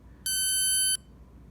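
A single high-pitched electronic beep from an Astrostart HST-5225 remote starter on startup sounds for under a second against near silence.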